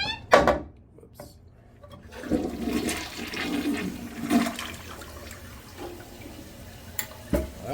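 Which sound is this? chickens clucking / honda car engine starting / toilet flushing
toilet flushing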